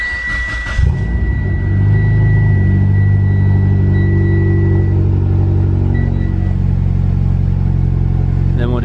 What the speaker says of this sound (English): So we're ready to start the car.